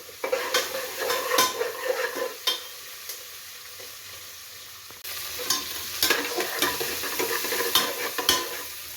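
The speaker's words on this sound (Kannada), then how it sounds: "ಗೆಜ್ಜರಿ ಬಟಾಣಿ ಹಾಕೊಂಡು ಈಗ ನೀಟಾಗಿ ಮಿಕ್ಸ್ ಮಾಡ್ಕೋಬೇಕ್ರಿ ನೀಟಾಗಿ" Carrots and peas being stirred while frying in a pan for pulao, a steady close sizzle with repeated scraping and clinking of the spoon against the pan, no voices.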